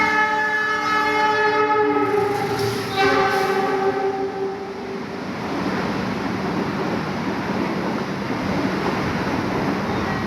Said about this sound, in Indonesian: Kereta api Brawijaya menyusul kita di stasiun Wuleri.